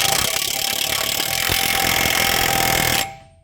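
A new hub nut is tightened on a CV axle of a 2004 Saab 9-5 Aero Wagon, giving a loud, steady mechanical whirring and rattling that runs for about three seconds, then cuts off and fades.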